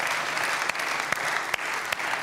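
An audience at a comedy show applauds with dense, steady clapping that carries on throughout, with a few sharper, louder claps standing out.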